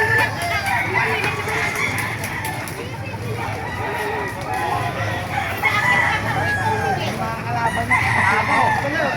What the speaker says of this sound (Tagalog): Papakita ko sa inyo mga manok sa Baliwag.